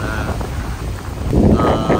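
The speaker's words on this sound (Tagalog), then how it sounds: "hinahagupit na po kami ni bagyong Bolaben" Typhoon Bolaven battering the Northern Mariana Islands: blustery wind roaring against the microphone with rain, gusts swelling louder toward the end, no clear talk.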